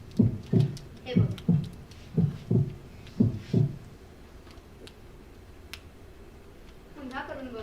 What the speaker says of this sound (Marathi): याच्या माध्यमातून आपण वनस्पतींच्या नाडीचे ठोके अगदी स्पष्टपणे ऐकू शकतो.